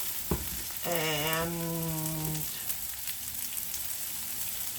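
Ingredients for a steak and mushroom risotto sizzle steadily in a hot pan. A voice briefly hums or speaks early on, and the frying continues alone in the background.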